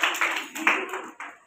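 A group of children and adults clapping their hands together in quick bursts at a school gathering, the rhythm loose and irregular, with faint voices mixed in underneath.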